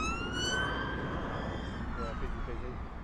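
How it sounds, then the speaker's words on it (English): An ambulance siren wails steadily at a fair distance, its rising and falling tones sustained throughout over a continuous background rumble. "it's an ambulance."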